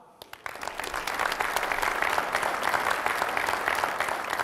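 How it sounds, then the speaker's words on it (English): Audience applause at a magic show swells quickly and holds steady: a dense, continuous clatter of many hands clapping. "let's have a round of applause for Sisuban"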